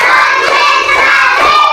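Schoolchildren in a Makassar classroom play a counting clap game as an icebreaker, with loud, close clapping blended with bright young voices calling out together throughout.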